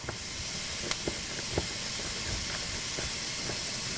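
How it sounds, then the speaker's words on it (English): Diced pancetta sizzles in a hot pan, a soft continuous hiss dotted with small pops and crackles, with no one talking. "I'm going to throw the pancetta in right now"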